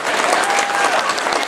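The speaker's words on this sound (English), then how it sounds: "So let's give a round of applause for our students right now." An audience applauds students at a school play, dense steady clapping from a crowd that holds evenly loud for the whole moment.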